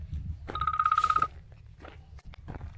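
A telephone rings out in a vegetable field on an Australian farm, a bright trilling burst lasting under a second, followed by faint rustling and a few soft steps.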